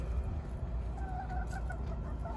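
Hens cluck softly and intermittently over a low, steady rumble of background noise, close by and fairly quiet.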